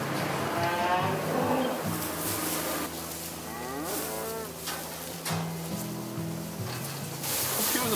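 Cattle on a Korean farm moo in several long, low calls that overlap and rise and fall, close by over a steady background hum of the barn.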